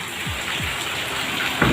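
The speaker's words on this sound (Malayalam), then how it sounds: "നല്ല മഴയാണ്." Heavy rain pours down in a steady, close wash of hiss and patter, with a brief louder splash near the end.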